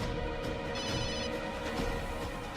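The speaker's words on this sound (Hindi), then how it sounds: "शाद भी फोन नहीं उठा रहा है" A telephone rings on and on without being answered, a steady electronic trill that fills the scene loudly and continuously, with no one speaking.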